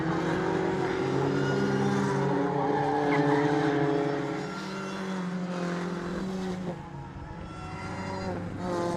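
A Mini racing in the 2019 BRX championship is flung into a corner and caught, its engine note droning loudly and steadily, then dipping and rising again as it powers out.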